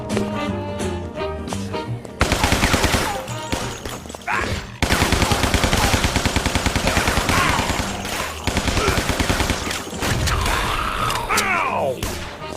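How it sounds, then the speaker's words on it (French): Repeated rapid gunfire in the video game Guns, Gore & Cannoli, loud dense bursts of shots separated by short pauses over a busy game soundtrack, with some crashing impacts. "Ah, le fusil à pompe, ça marche bien."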